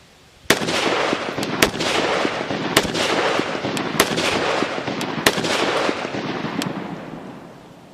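A Ruger SFAR rifle in .308 fires a string of sharp, loud shots at irregular intervals, each crack followed by a lingering roar of noise and echo.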